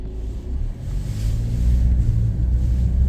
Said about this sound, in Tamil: இந்த கார் போகுது, அந்த கார் 2 அந்த கார் போகுது.